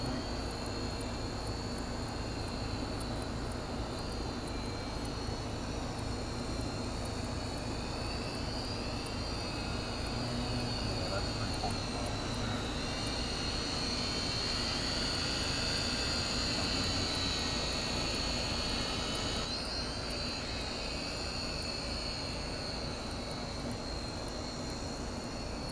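Syma X5C-1 quadcopter drone with an FPV camera mod flying on high throttle: a steady, high whining motor drone that holds evenly for the whole stretch, close and fairly quiet, with no talk.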